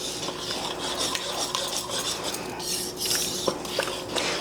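A spoon stirring Low Country BBQ hash with mustard-based barbecue sauce in a pot, continuous scraping and clinking close up, with a faint sizzle underneath.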